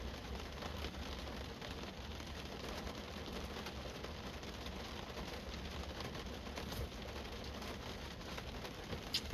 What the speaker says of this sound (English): It's raining. The weather just don't quit.